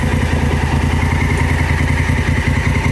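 Honda Africa Twin motorcycle engine running at idle close by, a loud steady throbbing rumble with rhythmic mechanical pulsing and light clatter.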